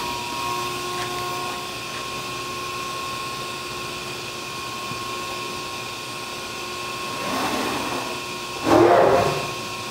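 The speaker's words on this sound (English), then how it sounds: "That's just moving the back gauge." The back gauge of a Baykal 31090 press brake shifts with two short mechanical whirring bursts, the second louder, over a steady machine hum in a workshop.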